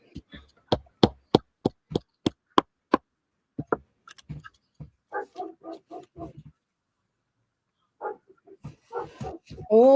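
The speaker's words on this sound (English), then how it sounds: "is it barking at the strangers outside?" A pet dog barks indoors in a fast run of about eight sharp, loud barks, followed by scattered shorter yips and whines.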